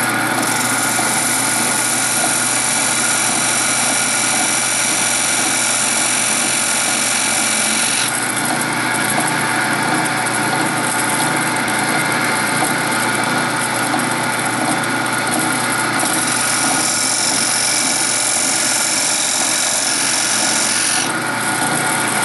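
A high-pitched power tool whines continuously and loudly while cutting a decorative groove into a handmade candle lantern, its tone shifting slightly as the load changes, with no talking.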